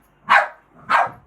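Two sharp, loud dog barks played as a sound effect, about half a second apart, close up with nothing else around them.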